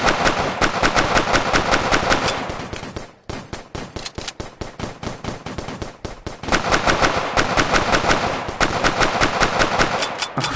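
Rapid automatic gunfire from guns in the PSVR video game Crisis VRigade, loud and sustained bursts with brief pauses, dense rattling volleys filling nearly the whole stretch.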